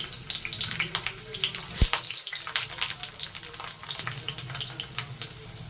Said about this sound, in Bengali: কড়ার মধ্যে তেল দিয়ে দিয়েছি। এবার বেগুনগুলো ভেজে নেব।